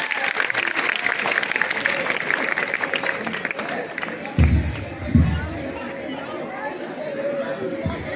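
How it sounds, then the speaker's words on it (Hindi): Audience at a school annual function (silver jubilee) applauds a speaker; dense clapping and crowd chatter fill the room, loud and continuous, thinning toward the end with a few close thumps. "मैम के लिए एक बार फिर से जोरदार तालियां बजाएं"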